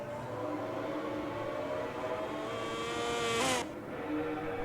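A Honda race bike in the MotoGP 19 racing game holds a steady, high-revving engine drone with the pitch slowly climbing. A sharp shift or rev drop near the end cuts the whine briefly.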